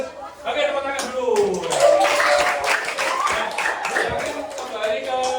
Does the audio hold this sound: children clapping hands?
yes